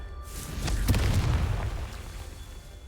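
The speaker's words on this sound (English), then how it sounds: "This is one of those who blow up ones, so Confringo." A Confringo spell in Hogwarts Legacy blows up a target with a loud, booming blast that swells and rolls away into a fading rumble.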